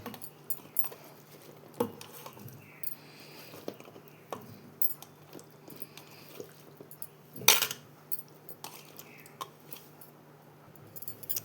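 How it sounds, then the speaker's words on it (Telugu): Lemon pieces for pickle tumble into a jar with soft clinks and knocks, a sharper clatter around the middle, quiet handling sounds scattered throughout, no talking. "ఇప్పుడు ఈ ముక్కలన్నిటినీ ఈ జాడీలోకి వేసేసుకుందాం."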